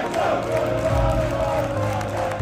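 Chelsea away fans at St. Mary's Stadium cheer and chant Maresca's name after a 5-1 win over Southampton, a dense and steady roar of many voices that stays loud throughout.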